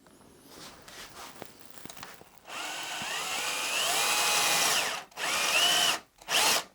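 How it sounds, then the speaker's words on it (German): A power drill fitted with a large, sharp bit bores holes sized for 3 mm neodymium magnets in a jig workpiece, whining loudly in long sustained bursts with brief pauses between them, after some quieter handling noises. "Und ja, jetzt werden wir mal bohren, ne?"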